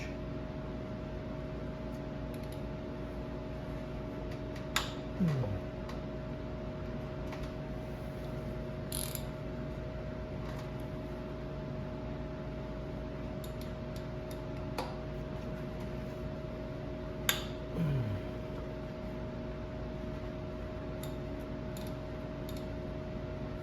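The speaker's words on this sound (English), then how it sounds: "these are going to be 12 millimeter using my large socket wrench" A large socket wrench ratchets on 12 mm bolts during power steering pump work on a 2007 Honda Pilot, giving a few faint, sparse clicking bursts over a quiet steady background hum.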